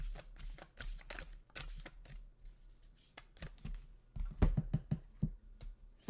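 Oracle cards riffle and slap together in repeated shuffling bursts, close and crisp, with a denser flurry of quick card snaps toward the end and no talking.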